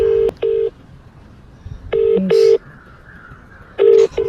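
Telephone call tones sound while a friend is being called: loud, steady electronic beeps arrive in short pairs separated by pauses, clean and close, with no talking.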